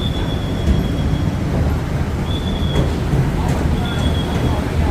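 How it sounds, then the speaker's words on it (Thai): BTS Skytrain rolling past an elevated skywalk beside a shopping mall in Samrong, Bangkok, a steady loud rumble of the train with faint high wheel whines, urban hum throughout. "BTS วิ่งผ่าน"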